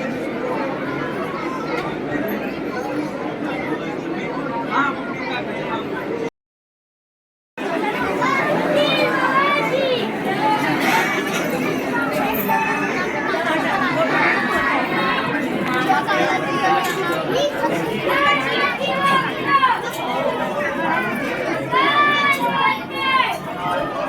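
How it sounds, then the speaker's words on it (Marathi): Dense crowd chatter fills the Siddhivinayak temple in Mumbai, many overlapping voices with children shouting, steady and loud throughout, broken by one brief silent gap. "किती गर्दी आहे बघ."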